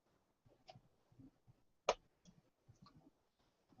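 Soft keystrokes on a computer keyboard: a handful of quiet, irregular clicks with one sharper tap, faint and close against near silence, no talk.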